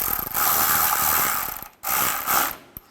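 A ratchet wrench tightening a nut during a 2007-2013 Mini Cooper radiator replacement, quick rapid clicking bursts in two close runs with a short pause between, then a final single click.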